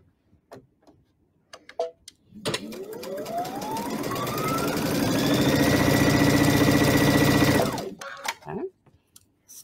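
A sewing machine stitching fabric pieces for a film strip quilt, with a few light clicks before the motor starts, then a steady rapid whirring run that rises in pitch as it speeds up for about five seconds and stops abruptly, followed by more clicks.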